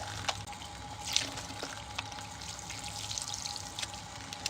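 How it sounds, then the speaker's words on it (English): Cool water rinsing hair in a salon, giving a steady pouring and trickling wash with scattered drips and splashes and no talk. "And we are going to use cool water. And we're going to rinse."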